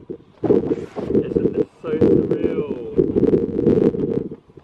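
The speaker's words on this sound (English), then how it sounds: "Oh, it's windy." Wind blowing across the deck of a cruise boat in the middle of the ocean. Loud rumbling gusts buffet the microphone in uneven surges, with a voice talking through part of it.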